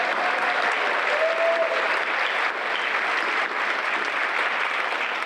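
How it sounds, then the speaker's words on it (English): Steady, full applause from an audience at a community arts awards ceremony in Kalamazoo, a continuous wash of clapping at even loudness from start to finish. "another round of applause to Kalamazoo."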